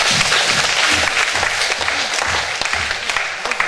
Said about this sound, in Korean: 승리하시며 영광 받으시는 하나님께 영광의 박수 주시겠습니다.